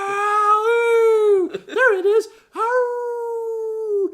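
A man imitates a coyote howl with his own voice, a long drawn-out wavering tone, then a brief break and a second sustained howl, close and clear, with a few words spoken between.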